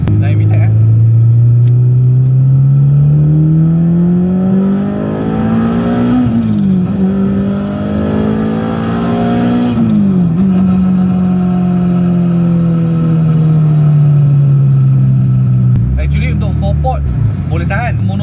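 A modified Honda Integra DC2 with a VTEC engine revs loudly and close, its pitch climbing and falling in long sweeps for about eighteen seconds, ending with a sharp throttle blip.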